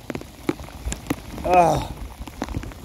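Rain falling steadily outdoors during crappie fishing with a swimbait, a soft patter with scattered drop hits throughout, briefly overlapped by a short exclamation from a man.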